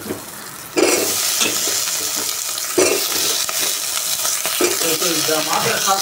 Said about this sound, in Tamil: எண்ணெய் ஊற்றிட்டு கடுகு, கருவேப்பிலை, அதுக்கப்புறம் தக்காளி, வெங்காயம் இதெல்லாம் போட்டு நல்லா வதக்கிட்டேன்